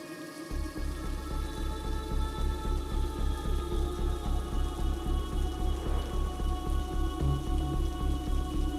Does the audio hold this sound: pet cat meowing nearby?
no